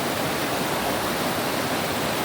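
Stream water at Horse Cove Campground rushes downstream as a steady, dense, full-bodied wash of flowing water. It is close and constant, with no voices.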